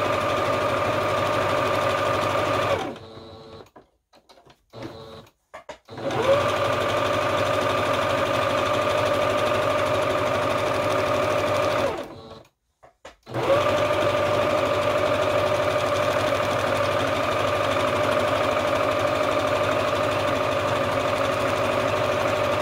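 A sewing machine runs steady straight stitches around a collage roll, a continuous mechanical hum with two short pauses where it stops and restarts.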